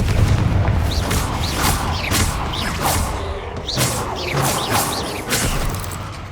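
In Hogwarts Legacy, Bombarda and Confringo spells go off as loud, repeated explosive booms and whooshes. They come close together over a busy game soundscape.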